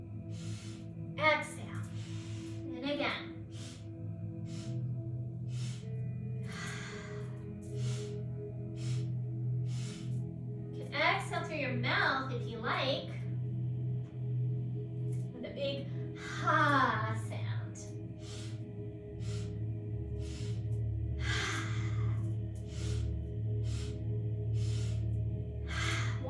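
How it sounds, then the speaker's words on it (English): Several slow, deep breaths, inhales and long exhales, during a gentle guided breathing practice, sit over a steady low drone, with quiet stretches between the breaths. "Inhale, inhale, inhale, exhale it out. Inhale, exhale, and again."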